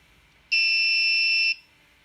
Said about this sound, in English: The buzzer is triggered and you can notice a slight variation.